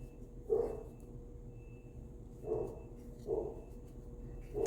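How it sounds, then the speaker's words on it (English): A dog barks in the distance, three or four soft, separate barks spaced a second or two apart over a steady low background hum, with no talk. "I don't know if you can still hear the dog barking"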